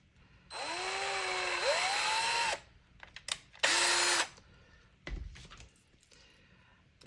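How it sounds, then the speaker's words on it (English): A power drill whirs loudly for a couple of seconds while drilling a hole in a wooden Jenga block, pitch dipping and rising under load, then stops and runs again in a second short burst. "I'm just going to take my drill."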